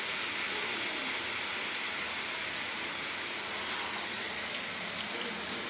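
Pumpkin simmering slowly in a pan with fried fish and no added water, a steady soft bubbling hiss that continues evenly throughout with no voices.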